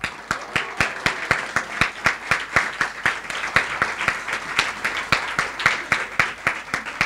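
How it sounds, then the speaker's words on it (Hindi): Applause at an intro session of an AHFM gathering as the son of Ameen Sayani is introduced: sharp, regular claps from a small group, close and steady, with a few voices underneath. "लेकिन जानूंगा तो आप लोग तालियां बजाओगे"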